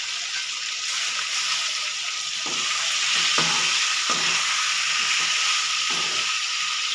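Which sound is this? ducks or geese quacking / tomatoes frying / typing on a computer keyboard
tomatoes frying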